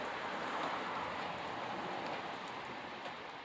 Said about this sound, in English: I'm filming it in the rain.